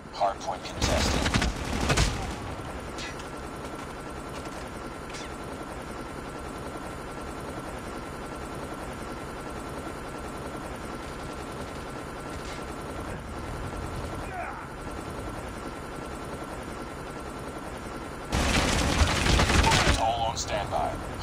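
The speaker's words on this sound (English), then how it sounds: "Stealth chopper inbound." In a Call of Duty Mobile Hardpoint match, a stealth chopper drones steadily overhead. Loud bursts of rapid gunfire open and close the stretch, with quieter game effects scattered through the middle.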